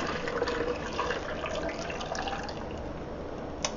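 Pickling liquid pours steadily into a kitchen sink, a continuous splashing, gurgling stream close by with no talking.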